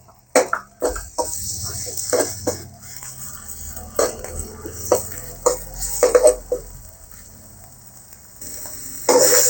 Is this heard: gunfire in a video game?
no